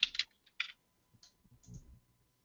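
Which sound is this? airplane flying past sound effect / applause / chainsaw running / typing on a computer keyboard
typing on a computer keyboard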